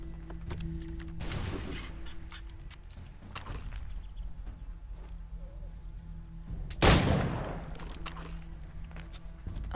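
Pistol gunfire in the video game Assassin's Creed III Remastered, with two sharp shots several seconds apart over a steady game ambience and muffled movement sounds, the second shot louder.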